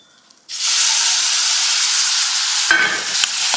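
After a brief quiet moment, a loud, steady sizzle erupts as tomatoes hit hot oil and keep hissing, with a few scraping stirs near the end.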